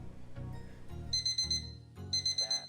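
A timer alarm played by a Python program, beeping as repeated rapid electronic bursts in short groups over a low tone, clear and alone.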